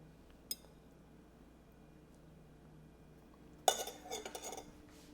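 A metal spoon clinks once against a plate, then after a pause scrapes and taps in a short busy burst as mushroom risotto is spooned out, close and fairly quiet with no talking.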